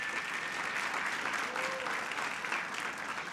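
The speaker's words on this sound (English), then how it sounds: "if you would give her a round of applause." A crowd at a Howard County MLK celebration applauds Councilmember Deb Young, a steady, even wash of clapping that holds for the whole stretch at moderate distance.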